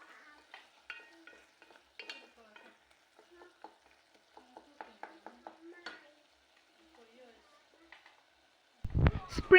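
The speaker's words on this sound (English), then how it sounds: "Stir very well to combine." Tomatoes frying in a pot are stirred with a spoon, giving light, scattered scraping and sizzling strokes with brief pauses, before a sudden louder clattering burst at the very end.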